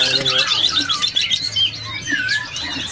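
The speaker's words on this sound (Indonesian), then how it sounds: "Di sini ada burung cililin hitam ya." Black cililin birds chirp and whistle in quick, bright bursts inside a bird kiosk, several calls overlapping close by, with faint low background noise underneath.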